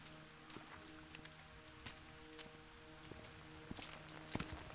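Steady rain patters over the alleys of Paris in We. The Revolution, with scattered footsteps and occasional sharper knocks breaking through the wet hiss, no voices present.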